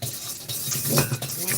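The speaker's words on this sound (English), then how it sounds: "We are gonna whisk it now, guys." A cake mixture being whisked in a bowl, giving a brief, close scraping and swishing rhythm of strokes over a second or two.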